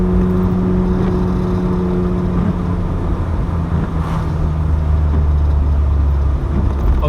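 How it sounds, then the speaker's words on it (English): Exhaust drone of a Mk2 Vauxhall Cavalier heard from inside while driving with the window slightly open, a steady loud engine hum with road noise and no talk. "Open my window a little bit so you can hear the exhaust again"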